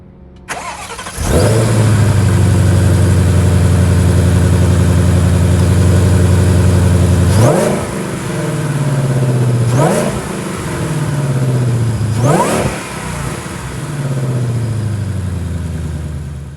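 A 2021 Shelby GT500 with a 5.2-liter supercharged V8 starts with a loud bark, settles into a deep steady idle, then is revved sharply three times, each rev rising and falling back, all very close and loud.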